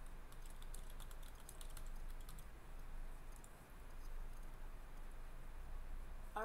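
A blog post title is typed on a computer keyboard: quiet, rapid key clicks in short bursts over a faint room hum, close but soft, with no talking.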